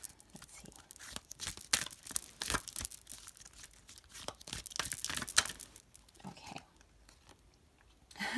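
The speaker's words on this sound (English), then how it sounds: "here's the backs of our cards, and I'm going to go ahead and shuffle that" A deck of tarot cards is shuffled close up in a series of crisp, papery riffling and flicking bursts that come irregularly and fade toward the end, with no talking.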